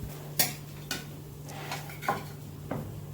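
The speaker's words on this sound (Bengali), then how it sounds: "তো দেখো একটা একটা করে মাছ আমি এখানে ভেজে উঠাচ্ছি।" Pabda fish frying in a pan and being lifted out one by one give several separate clinks and scrapes of a utensil against the pan, spaced about half a second apart, over a low steady hum.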